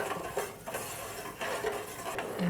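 A spoon scrapes and clinks against a pan while sugar syrup is stirred over a gas flame, with soft repeated rhythmic strokes and faint bubbling throughout.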